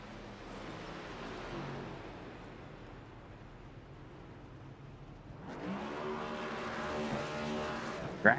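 Race cars in a sim racing esports event at Indianapolis Speedway accelerate hard off pit road, engines droning and revving in overlapping layers, swelling louder and brighter midway as several cars rise through the gears together.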